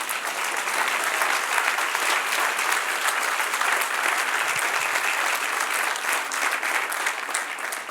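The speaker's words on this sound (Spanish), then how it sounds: "Dale un aplauso al que reina." A church congregation at a Spanish-language sermon claps together in a thick, even wash of applause that holds at a constant level throughout, with no voices cutting through.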